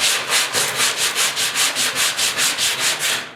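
A homemade sander works 40-grit paper across the bed of a 1969 Ford Bronco, giving a close, loud rasping scrape in steady back-and-forth strokes, about four per second, with no voices.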